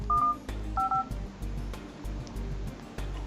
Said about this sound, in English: Let me do a quick phone call.